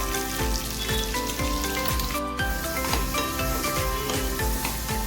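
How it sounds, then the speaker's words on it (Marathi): Finely chopped garlic cloves with popped mustard seeds sizzling steadily in hot oil over low heat, a close, continuous crackle with stirring scrapes, no voices. "सात आठ पाकळ्या लसणाच्या बारीक चिरून घेतल्या त्या टाकूया"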